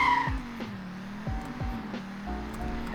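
A sedan with a 2.5-liter five-cylinder engine launches from a standstill, a steady, close engine drone that rises slowly in pitch, with a few sharp shift-like blips and no voices.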